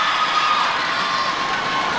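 Spectators at a SEA Games 2017 netball match between Singapore and Malaysia keep up a steady, dense roar of cheering and shouting, a broad continuous crowd wash heard from a distance.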